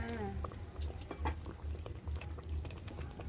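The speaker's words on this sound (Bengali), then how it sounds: "এইভাবে আমরা এক এক করে ভেজে নিচ্ছি" Yam cutlets deep-frying one by one in hot oil give off a steady, close bubbling and pattering with soft rhythmic pulses, with no other sound over it.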